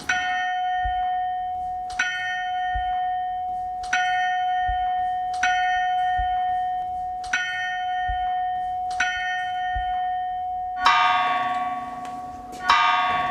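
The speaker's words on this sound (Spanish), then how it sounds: "Un tino para tocar las campanas." A church bell tolls slowly and evenly, one ringing strike about every two seconds with long humming decay, before a second brighter bell joins with heavier, clanging strokes near the end. The bells are loud and close, with no voices.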